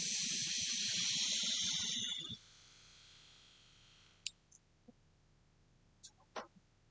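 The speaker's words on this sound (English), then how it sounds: "I'm vaping at 18 watts on a RPM 2 or RPM 3" Vapor drawn through an RPM pod device at 18 watts, a loud hiss lasting about two seconds that cuts off abruptly, followed by quiet with a few faint clicks and small noises.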